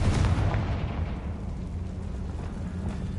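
A Confringo blasting spell explodes in the Hogwarts Legacy video game, a loud booming burst at the start that rolls into a sustained rumbling roar with crackling debris, heard alone without talk.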